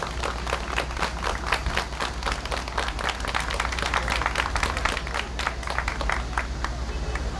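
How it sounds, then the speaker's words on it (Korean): Sustained crowd applause from the audience at a doctors' nationwide general strike rally, dense continuous clapping throughout with faint crowd murmur. "여러분 박수로 맞아주시길 바라겠습니다"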